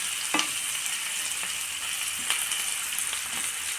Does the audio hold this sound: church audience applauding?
no